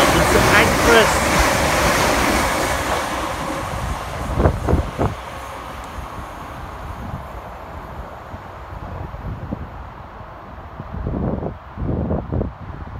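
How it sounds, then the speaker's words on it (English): Two coupled East Midlands Railway Class 360 electric units racing through Hendon station, a loud rushing roar up close that fades into a distant rumble, with voices talking intermittently over it. "Next flying through the station for East Midlands Railway is 360107 and 360114, working 1H42 from Corby through to London St Pancras"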